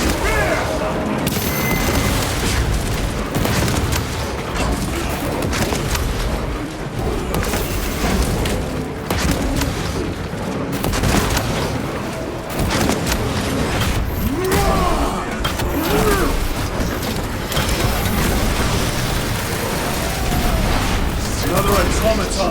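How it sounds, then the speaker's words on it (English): Frag grenade blasts in the video game Warhammer 40k Space Marine 2, heavy booming explosions layered into dense, continuous combat noise with voices calling out over the chaos. "Frag grenade!"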